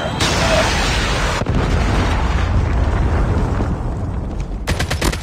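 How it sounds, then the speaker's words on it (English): In a video game, a predator missile strike lands as a heavy, sustained explosion, a loud broad roar that fills the clip, cuts briefly and then returns with rapid crackling bursts near the end. "Friendly predator missile inbound."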